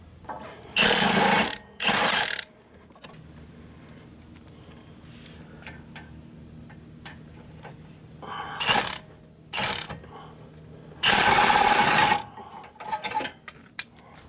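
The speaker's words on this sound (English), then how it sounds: "we removed the two screws supporting our caliper bracket on with our big impact" A big impact wrench removes the caliper bracket screws on a Hyundai Santa Fe: loud, close rattling bursts near the start and again later, with quieter clanks and shop noise between.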